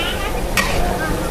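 Two kilograms of ground lemongrass sizzles loudly as it is stir-fried for Thai fish chili paste, a steady frying hiss with one brief scrape of the stirring utensil.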